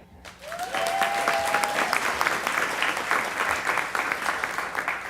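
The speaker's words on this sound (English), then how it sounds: "More claps." Audience applause at a Black History Month court ceremony, steady clapping that rises quickly and holds for several seconds, with a brief whistle-like tone near the start.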